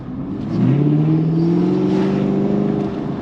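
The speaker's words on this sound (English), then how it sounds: "you could definitely hear the intake" A sixth-generation Camaro revs steadily with a rising, droning air intake roar, loud and close, holding a strained whine for a few seconds.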